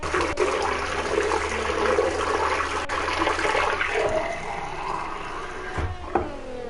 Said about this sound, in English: Apologies if you could hear a tap in the background for a second